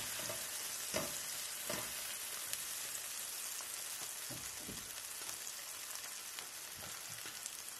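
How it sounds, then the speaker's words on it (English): Diced tomato frying in Kerrygold butter, a steady close sizzle with scattered pops and crackles running continuously throughout, no voices. "I went ahead and diced a little tomato just to cook in the butter first."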